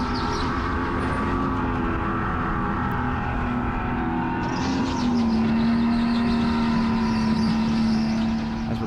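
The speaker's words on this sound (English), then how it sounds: "just kind of moving ourselves quickly around this straight, separating ourselves from whatever karts that are behind me" A go-kart runs flat out along a straight at the Supercharged Entertainment NJ track, its small engine droning steadily from an onboard position, the pitch climbing slightly midway with no voices over it.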